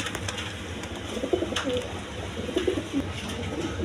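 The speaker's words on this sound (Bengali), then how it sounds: "বন্ধুগণ এখানে আরেক পেয়ার কবুতর আছে, কালারিং গররা কবুতর বলে।" A pair of coloured Gola pigeons coo in short, throaty bursts over a steady background hum, close by, with no talking.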